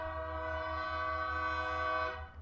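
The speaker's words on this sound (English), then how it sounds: "Apparently I have a train outside my house." A train passes outside a house, its horn holding a loud, sustained harmonic blare over a low rumble of rolling wheels. The tone stays steady for about two seconds, then drops away near the end.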